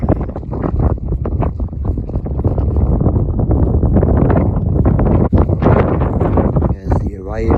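Strong wind roars and buffets the microphone around an Orion tent on a Western Fells summit during a wild camp, gusty and loud throughout with rumbling low-end noise and occasional flapping.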